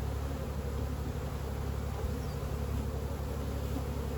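Honeybees drone in a steady, close buzz on a frame of sealed brood lifted from a congested hive during a spring inspection, a continuous low hum with no voices.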